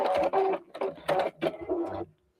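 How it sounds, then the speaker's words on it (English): A sewing machine stitches fabric while backstitching a skirt with a shirring elastic waist, running in several short bursts with brief pauses between, close and fairly loud, then stopping. "So I'll just backstitch there and then sew all around."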